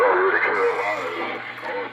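A voice transmitted over a Uniden Grant LT CB radio during an audio check, heard as loud, band-limited, slightly compressed speech with a steady low hum underneath.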